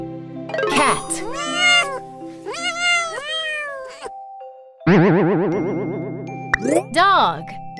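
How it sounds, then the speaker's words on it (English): A cat meows several times in drawn-out, wavering calls over a bouncy, jingling children's music backing, with another bright warbling tone in between. "Cat."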